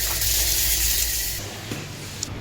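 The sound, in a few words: water gushing forcefully from a tap for bathing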